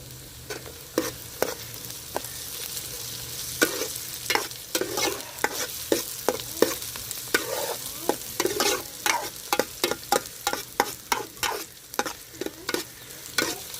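Home-pounded ginger and garlic frying in oil for chicken curry, with a low steady sizzle punctuated by a long series of sharp, rapid scraping strokes of a spoon against the pan, close and uneven.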